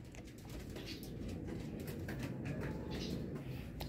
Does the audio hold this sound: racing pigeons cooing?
yes